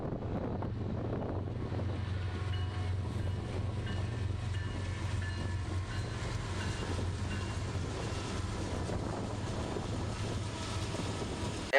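Norfolk Southern freight train NS21E passes with AC44C6M locomotives 4547 and 4526 mid-consist, a steady low engine drone and continuous rail rumble close by, wind buffeting the microphone throughout.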